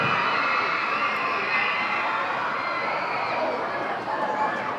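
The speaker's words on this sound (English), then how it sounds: "heard that big screaming roar from one of the crowd sections" Fans in one crowd section at a minor league baseball game between York Revolution and Lexington Legends let out a sustained screaming roar, loud and unbroken for nearly five seconds.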